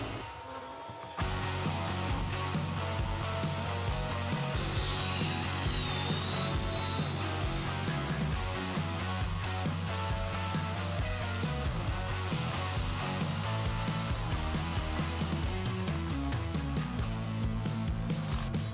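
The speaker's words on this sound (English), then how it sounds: "I'm gonna cut them to size now and then get them down perfectly smooth." Wooden panels for a modern side table are cut to size with a saw, a loud, continuous rasping cut running steadily for nearly the whole stretch with no talking.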